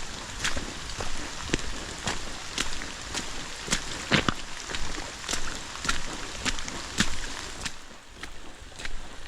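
Rain falling on the Appalachian Trail, a steady outdoor patter with sharp, irregular drops and clicks striking nearby surfaces throughout.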